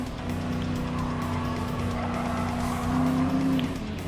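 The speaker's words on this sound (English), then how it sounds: "Now just going to overtake the Dodge Challenger." Race cars overtake a Dodge Challenger in Gran Turismo Sport, their engines droning loud and steady with a sustained whine that rises briefly as the pass happens, while faint tire noise runs underneath.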